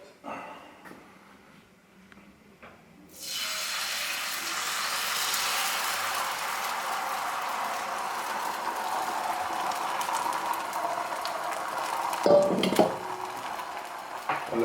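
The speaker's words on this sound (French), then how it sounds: "Alors on envoie les blancs d'œufs." Egg whites poured into a hot pan with water set off a sudden loud sizzle that keeps hissing steadily, with a brief clink of utensils near the end.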